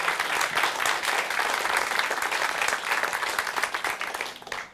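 An audience at a gathering bursts into sustained applause, a lively, continuous patter of many hands clapping that holds steady before tapering off.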